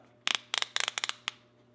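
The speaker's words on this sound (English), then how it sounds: "you just cut it with a simple pair of scissors at the right length to fit your waist" Quick sharp snips of scissors chopping through a belt, several clustered bursts of cuts with a low hum beneath, then quiet.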